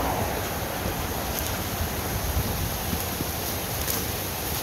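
A steady, broadband rush of mine drainage water pours continuously into a hole in Darkwater, Pennsylvania, loud and close, with a faint windy hiss over it and no voices.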